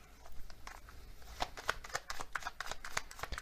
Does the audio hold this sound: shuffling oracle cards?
yes